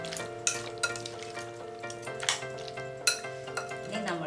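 Mint chole masala stirred in a pan, with repeated clinks and scrapes of a spoon against metal over a low sizzle and faint background hum.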